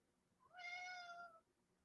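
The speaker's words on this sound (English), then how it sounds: "My wife's cat is in here and she's very confused about why I'm up this late" A house cat gives a single clear, drawn-out meow close by in a quiet room late at night.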